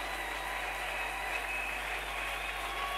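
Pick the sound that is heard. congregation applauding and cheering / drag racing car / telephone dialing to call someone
congregation applauding and cheering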